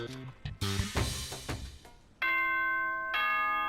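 A bright electronic ding-dong chime rings out in Danganronpa: Trigger Happy Havoc after a few scattered clicks, its sustained tones holding steadily to the end.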